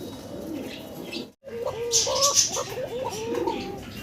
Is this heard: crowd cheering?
no